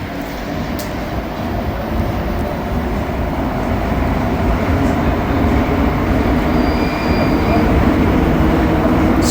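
Montreal Metro Green Line subway train riding through a tunnel, a loud continuous rumble of rubber-tired wheels and motors that builds slightly, with a faint thin squeal of wheels partway through.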